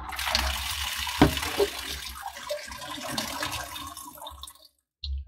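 Water drains through a hose out of an Ariston Lydos Hybrid boiler during maintenance, a moderate gurgling and splashing flow with a few clunks before it cuts off near the end.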